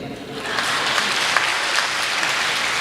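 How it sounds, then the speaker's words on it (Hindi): An audience at a Hindi poetry recital breaks into applause that starts after a short moment and continues as brisk, sustained clapping. "आप यहां पे अपनी तालियां नहीं रोक पाएंगे"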